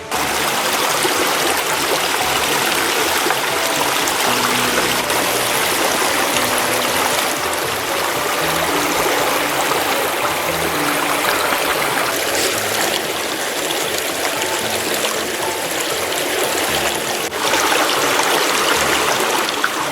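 Steady rushing and trickling of a creek flowing over rocks, continuous and fairly close, with no voices.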